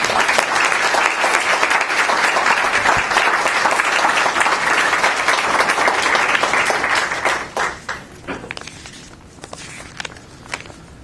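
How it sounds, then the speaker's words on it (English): An audience gives loud, sustained applause after a speaker thanks fellow panelists at an immigration event. The clapping holds full for about seven seconds, then breaks up into scattered claps and fades out. "a round of applause, please, for my fellow friends"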